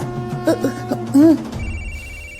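A telephone rings with a bright electronic tone, then a low rumble and thud follow as the ringing continues faintly in the background.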